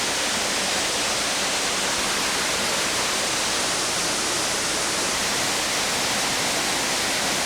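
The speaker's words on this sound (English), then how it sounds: "Upper Sandcut Creek waterfall." Upper Sandcut Creek waterfall near Sooke on Vancouver Island roars in a loud, constant rush of falling water, close by and unbroken, with no voices.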